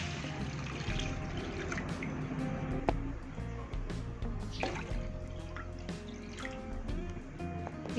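Water is poured into a bowl of sugar and salt while making grass jelly pudding, producing close, splashy dripping and trickling sounds with small liquid squishes throughout.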